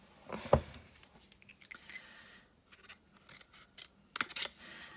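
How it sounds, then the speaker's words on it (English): Scissors trimming a piece of card for handmade cardmaking, several crisp close snips in irregular bursts with quiet pauses between, no voices. "No, just need to trim it"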